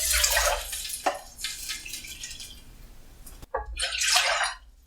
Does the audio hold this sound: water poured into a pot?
yes